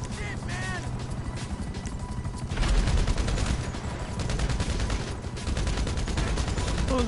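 Rapid gunfire in GTA 5 Online aimed at a helicopter, dense automatic bursts that grow louder partway through over a rumbling background, with a voice briefly audible early on.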